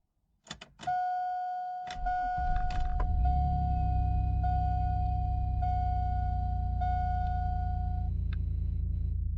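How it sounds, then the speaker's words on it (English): A truck engine with a working crankshaft position sensor cranks after warning chimes and a beep, catches within about a second, and settles into a steady, close, low idle that runs on to the end. "As you can see, the truck starts completely normally."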